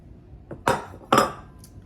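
Powdered milk, about three cups, goes into a mixing bowl for homemade cocoa mix; two sharp, close clinks ring out against the bowl amid near silence.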